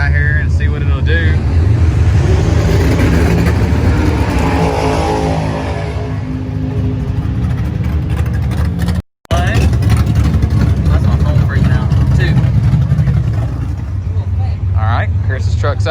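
A drag race car's engine roars loudly at the track, revving and accelerating with a rising harsh blare, then cutting out briefly before roaring again, with people talking over the noise.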